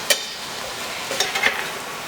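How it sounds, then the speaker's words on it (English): Sautéed fish mixture being stirred in a pan, with a few sharp utensil scrapes and clicks over a soft background sizzle, close by and with no speech. "Now we're going to mix it all up."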